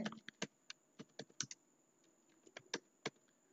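A computer keyboard clicks in quick, uneven bursts of keystrokes while text is entered into a table in MS Word, quiet and close, with brief pauses between groups of keys.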